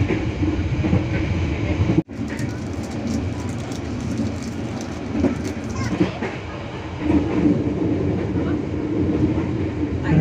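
A passenger train, the Bengawan Jakarta–Klaten express, rumbles and clatters as it pulls away from an Indonesian station, a steady low roar with rhythmic wheel noise, recorded from close by.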